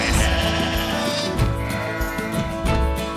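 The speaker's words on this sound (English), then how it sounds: "What are you sheep doing here?" Sheep bleating loudly and close, with overlapping wavering bleats running through the whole stretch over a dense background of other sound.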